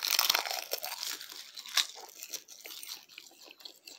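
Crisp crunching of a roasted seaweed snack being bitten and chewed, a close, dry series of irregular crackles that grow softer and sparser as it softens, with no talking.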